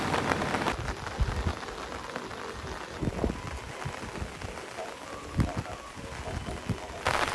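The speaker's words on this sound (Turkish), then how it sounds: "nasipte böyle yağmurlu havada izlemek varmış" Steady rain falls at a temple in Bali during the rainy season in late November, a dense, even hiss with scattered nearby drips and splashes throughout.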